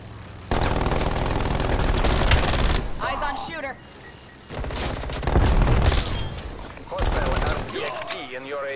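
Rapid gunfire while running and gunning in Call of Duty Black Ops Cold War, several loud bursts of automatic fire broken by short pauses, with a voice talking in between.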